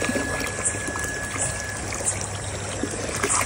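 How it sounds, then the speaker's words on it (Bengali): Water from a motor pump pours steadily into a basin, a continuous splashing rush with a faint whine running underneath. Nobody speaks. "মা ধুবে আর আমি হচ্ছে জল ভরে দিচ্ছি"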